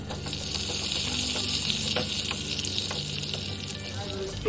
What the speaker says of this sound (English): So we'll fry everything together.